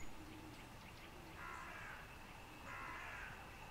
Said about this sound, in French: Je vous laisse écouter les oiseaux et les corbeaux.